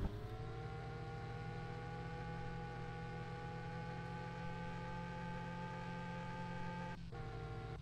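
A car engine drones steadily in the driving game Car For Sale Simulator 2023, holding an even, humming tone with a brief dip near the end and no talk.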